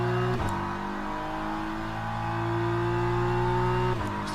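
Sustained high-pitched drone of an LMP prototype race car engine in the Le Mans Ultimate racing game, steady and loud with brief shifts in pitch near the start and end.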